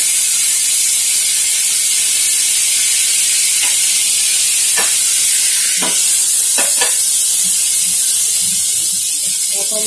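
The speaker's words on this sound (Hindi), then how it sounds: "तो चलिए अब हम इसमें डालेंगे 1 table spoon soya sauce. Direct oil में हम डाल देंगे।" Soy sauce poured straight into hot oil with garlic while making chilli veg Manchurian, giving a loud steady sizzle and hiss throughout with a few faint clicks of stirring.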